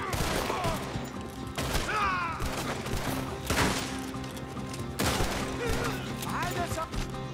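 Gunfire from a Red Dead Redemption 2 shootout crackles in repeated loud bursts over a steady game soundscape, with some voices mixed in.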